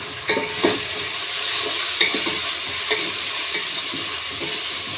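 Onions fry in a pan as ginger garlic paste goes in, making a close, steady sizzle broken by several sharp stirring scrapes and clinks.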